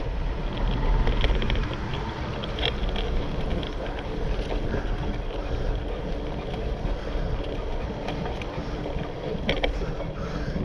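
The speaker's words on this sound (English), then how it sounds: "Sounds like a moped crossed with, I don't know, diesel engine with a load of ball bearings" A small, old barn-find motorcycle engine, unused since 1981, rattles and clatters steadily up close on an uphill ride, a rough mechanical chatter with wind buffeting the microphone throughout.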